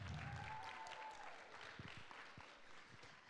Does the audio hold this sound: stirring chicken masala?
no